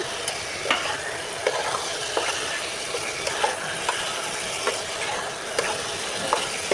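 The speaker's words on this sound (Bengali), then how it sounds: "এখন আমি বেগুনগুলোকে ছেড়ে দিব, এই ভাজা বেগুনগুলোকে ছেড়ে ভালো করে কষিয়ে নিব।" Fried brinjals are stirred and sautéed in a spice paste, a steady close sizzle broken by regular scraping strokes of a spatula against the pan, roughly once a second, with no speech.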